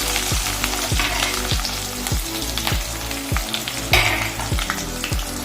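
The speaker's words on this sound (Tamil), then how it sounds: "இப்போ வானலில் ஒரு பக்கம் வதங்கிட்டு இருக்கு வெங்காயம்" Onions sautéing in a pan for Kerala-style mor kuzhambu, a loud continuous sizzle and crackle punctuated by regular rhythmic spatula taps roughly every half second, close and without speech.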